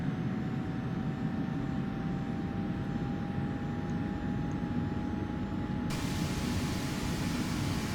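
Steady Boeing 737 jet engine roar from the X-Plane 11 flight simulator during a climb, a constant broadband drone with a faint tonal hum, continuous and unchanging throughout with no talking.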